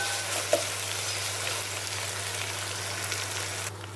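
Spices frying in a pan for coconut rice mutton curry give off a steady, even sizzle with a faint low hum underneath and one small crackle near the start, with no talking.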